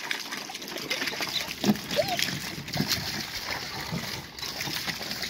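Children splash and play in water spraying from a running garden hose outdoors, with steady broadband splashing and trickling throughout, occasional louder splatters, and children's voices mixed in.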